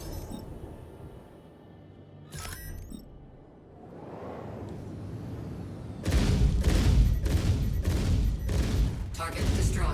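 Weapons fire from an F8C Lightning ship in the Star Citizen space game arrives as a rapid, loud burst of repeated shots in the second half, after quieter cockpit sounds and a brief synthetic voice warning.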